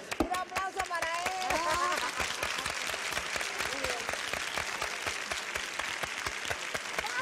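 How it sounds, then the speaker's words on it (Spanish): A 1984 TV studio audience breaks into brisk, rhythmic applause with crisp individual claps, while voices talk over it at the start. "un aplauso para él."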